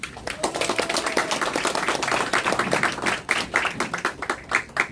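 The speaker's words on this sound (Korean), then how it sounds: "박수 한번 치세요." A room full of people applauds at a Korean political press conference announcing a party membership and election candidacy, with dense, steady clapping throughout.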